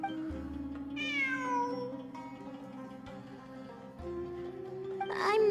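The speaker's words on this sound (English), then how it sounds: "I'm not hearing things. It really is a cat." A cat meowing in the video game Genshin Impact, two drawn-out rising and falling meows over a steady game music drone, clear and close.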